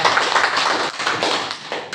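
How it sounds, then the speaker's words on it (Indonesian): Congregation clapping at a church youth performance service, a short burst of hand claps that swells and dips, with a brief gap midway before a final clatter. "Tepuk tangan sekali lagi buat Yud kita."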